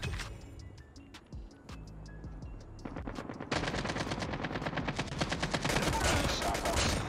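MW11 gunfire in Call of Duty Mobile, with rapid rattling bursts of shots that build into near continuous fire over the second half, loud over game ambience.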